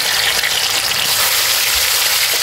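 Oil sizzles steadily as food fries in a pan for a Sundanese fried dish, a dense continuous hiss and crackle heard close with no talk.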